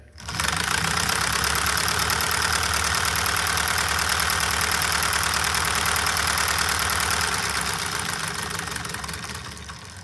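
A homemade solenoid engine runs at full power, its rapid, even mechanical clatter loud and close, holding steady for the whole stretch and easing off slightly toward the end, with no voices.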